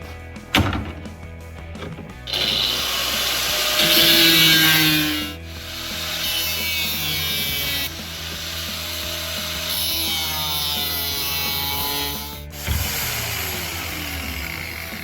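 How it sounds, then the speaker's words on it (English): A 4-inch angle grinder fitted with a 1mm cutting blade cuts through a crevice tool section in long sustained passes, loud and close, with harsh whining grind, brief pauses and sudden starts. "Just want a 4-inch angle grinder with a 1mm cutting blade, a grinding disc"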